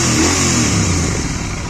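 A Royal Enfield GT 650 motorcycle being ridden with its engine revving hard: a loud, close, continuous roar that holds steady for the whole brief stretch.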